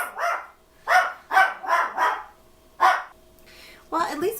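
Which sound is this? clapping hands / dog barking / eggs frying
dog barking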